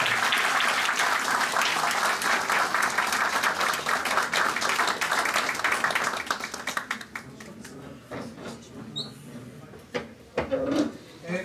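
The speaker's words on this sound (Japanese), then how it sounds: "盛大な拍手でちょっとお願いします" Hotel gathering on a music pilgrimage trip in Taiwan: a room audience claps warmly for about six seconds, then the applause thins into scattered claps, shuffling and faint murmuring voices.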